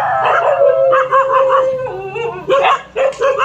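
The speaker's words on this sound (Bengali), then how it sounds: "এই যে কুকুরগুলা শব্দ করছে" Several dogs howl and yip loudly at close range, with long wavering wails broken by short barks and whimpers and no talking.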